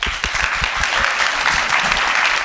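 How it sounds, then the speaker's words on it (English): An audience applauds a panel at a Miami community resilience event, with dense, steady clapping filling the room throughout and no voices over it. "I want to just give them a round of applause"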